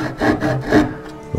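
A dovetail hand saw cuts along a scribed line in wood with two close, rasping strokes, one back and forth, each a short gritty burst of loud scraping.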